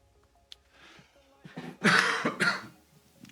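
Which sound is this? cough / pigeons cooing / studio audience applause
cough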